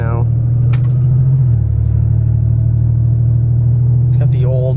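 A 1986 car's engine cruising on the road, a steady low rumble held throughout with a slight shift in pitch early on, and brief voices near the start and end.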